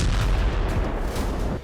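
A fiber-optic drone strike on a Russian T-72 tank produces a heavy, rumbling blast, a sustained low roar of explosion and debris that stays loud across the short moment before tailing off.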